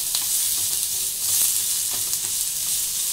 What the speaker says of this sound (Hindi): थोड़ा तेज आंच पे हम इसको सेक लेंगे, ताकि थोड़ा सा क्रंचीपन जो सब्जियों में है वो रहे